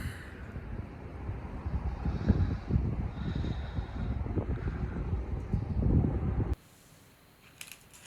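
Gusts of wind buffet outdoors, a rough, rumbling roar with uneven surges that carries on steadily, then abruptly drops to near quiet toward the end.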